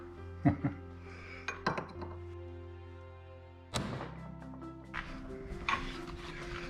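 Sharp metallic clinks of a hammer striking a cold chisel against a rusted nut, several spaced blows ringing close up, with quiet pauses between strikes.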